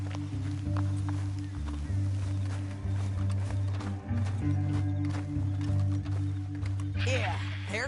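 Hoofbeats from a video game clop along under a steady music and ambience bed as a rider comes off his horse, with voices talking over the scene.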